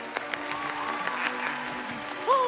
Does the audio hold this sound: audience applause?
yes